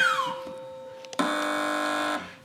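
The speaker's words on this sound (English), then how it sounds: "fingers on buzzers" A loud, flat electronic buzzer blares for about a second after a descending tone, a harsh, steady game-show buzz from a TV panel quiz.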